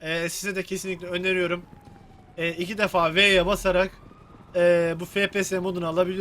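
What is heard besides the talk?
No distinct noise like a dog, phone or traffic.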